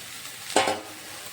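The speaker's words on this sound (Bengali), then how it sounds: "এখন আমি আলু কপিগুলো দিয়ে দিচ্ছি তার মধ্যে।" Potatoes and cauliflower tipped into spices frying in oil in a pan, giving a brief loud burst of sizzling and clatter that fades back to a low crackle, with no voices.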